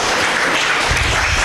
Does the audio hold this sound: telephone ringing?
no